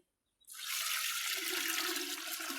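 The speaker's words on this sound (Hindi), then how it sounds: "सबसे पहले पानी डालेंगे" Water is poured from a jug into a container while making watermelon juice; after a brief silence a steady, close, hissing gush starts and continues without a break, with no talking.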